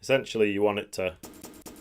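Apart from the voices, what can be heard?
No everyday noise stands out behind the speech.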